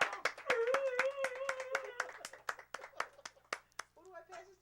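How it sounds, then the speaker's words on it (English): A small group claps for a chef in sharp, separate claps that come close together and then slow, while a person talks over the clapping. "let's give Chef Linda Dixon a round of applause."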